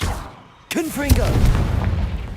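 A Confringo fire spell blast in Hogwarts Legacy, a sudden sharp crack after a quiet moment, followed by a second loud hit and a rumbling tail, with a voice heard during it.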